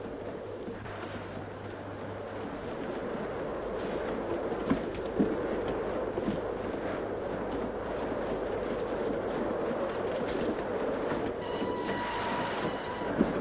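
A train runs steadily on its rails throughout, a continuous close rumble with rhythmic clatter and brief metallic clanks, plus a thin high squeal near the end, no talking.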